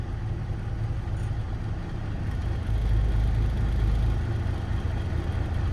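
A Peterbilt 359 dump truck's heavy engine rumbles steadily as the truck creeps forward, swelling a little louder partway through, with no talk.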